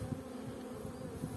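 Honeybees hum over hive frames of brood, a near, continuous buzzing that swells slightly at moments but never stops.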